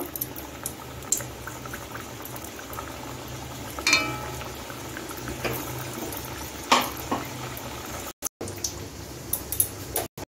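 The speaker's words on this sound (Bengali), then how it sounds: "আমি আরো কয়েকটা দিয়ে দিচ্ছি, দিয়ে ভেজে নিচ্ছি।" Khaja pastries deep frying in oil, a steady bubbling sizzle up close with occasional clinks of a utensil and brief spatter bursts.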